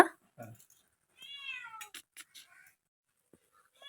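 A single drawn-out cat meow, close and clear, with a few soft brief sounds around it in an otherwise quiet room.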